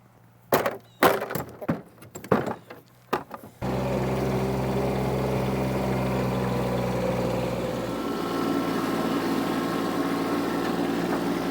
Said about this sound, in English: now we got the tractor here